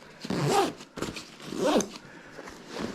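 A zipper is pulled open in two quick rasping strokes, close and crisp, separated by a short pause.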